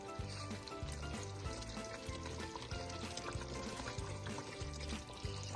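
Chicken simmering in a karahi for a white chicken karahi, a steady close bubbling sizzle with a regular low pulsing throughout, no talk.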